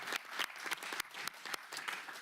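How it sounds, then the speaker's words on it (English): Scattered clapping from a small audience at a county board of supervisors meeting, a handful of distinct claps spread over a couple of seconds, moderately faint and heard alone. "if we could give them a round of applause for the great work they've been doing."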